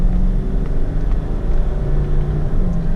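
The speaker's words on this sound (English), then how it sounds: "The car sounds amazing." A 2007 Jaguar XK driving down a highway, heard from inside as a steady low engine drone mixed with road and wind noise, constant and fairly loud throughout with no talking.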